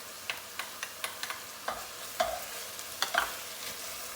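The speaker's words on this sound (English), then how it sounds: "we'll go ahead and saute that up for another 3 to 4 minutes or so" Garlic, oregano and thyme are sautéed with celery and carrots in a pan for an Italian sausage and white bean soup, with a soft steady sizzle and a few light spoon taps and scrapes as the vegetables are stirred.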